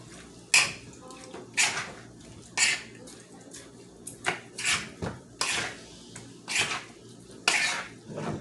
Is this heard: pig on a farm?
no